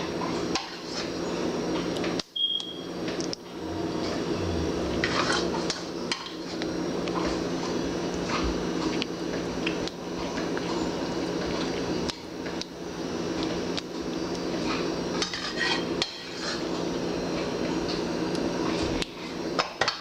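Leftover lasagna sauce is mixed with utensils in a pan, a close, continuous run of scraping and clinking metal against cookware with brief knocks throughout.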